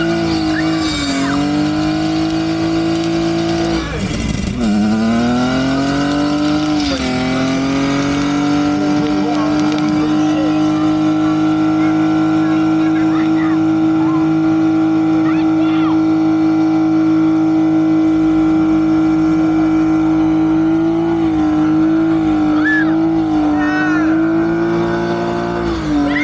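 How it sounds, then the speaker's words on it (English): At a UK car event, a car performing a burnout holds a loud, high engine drone that dips and swells as the rear tyres spin, a sustained close roar lasting the whole stretch. "You never thought you'd be here burning up the rear tyres in your daughter's car."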